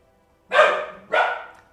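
A dog indoors barks twice in quick succession, two loud, close woofs about half a second apart against a quiet room.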